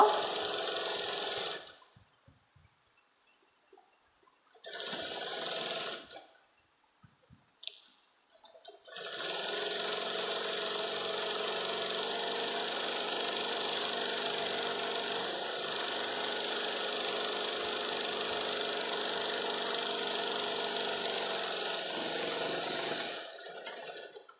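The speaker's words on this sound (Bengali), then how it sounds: "এবার এটার ওপর দিয়ে সেলাইয়ের ওপর দিয়ে সেলাই মেরে ডবল সেলাই করে নেব" A sewing machine double-stitches a seam on a patiala salwar, starting with short stop-start runs and then whirring continuously and close for a long stretch, with no speech.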